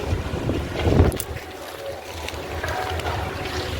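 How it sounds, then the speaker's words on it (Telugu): Wind rushes in cold, low, uneven gusts at a vegetable market, buffeting the microphone, strongest near the start and then settling into a steady rumble. "చల్లటి గాలి తగులుతుంది ఫ్రెండ్స్"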